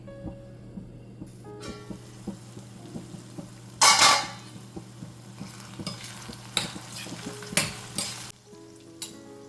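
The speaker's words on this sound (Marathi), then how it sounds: "तेलावर आपला कांदा आणि टोमॅटो चांगला परतून झालेला आहे आपण ह्याला आता शिजवून घेऊया ह्याच्यावर मी झाकण देत आहे" Onion and tomato cooking in oil in a pan, a steady sizzle with scattered stirring scrapes and clinks, a louder rattle near the middle, likely the lid being set on, close.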